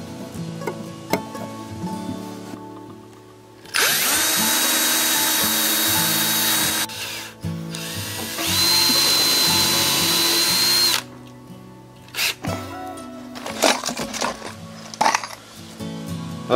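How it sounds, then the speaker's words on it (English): A power drill whirs in two sustained bursts, loud and close, pre-drilling wooden battens for a screen porch, with clinks and handling knocks between and after the runs. "I like to pre-drill these battens"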